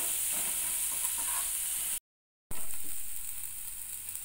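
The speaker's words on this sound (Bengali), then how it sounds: "এবার এই মশলাগুলোকে ভালো করে কষাতে হবে।" Spices sautéing in oil in a pan for a chickpea-dal fritter curry, a steady close sizzle throughout with a brief dropout partway through, no voices.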